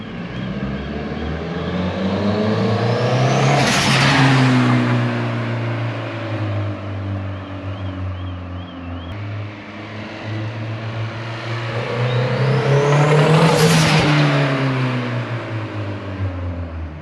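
Turbocharged car with its blow-off valve removed, engine revved twice to a rising whine with fluttering turbo noise as the revs fall back, loud and close, no speech.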